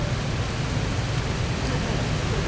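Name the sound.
rain falling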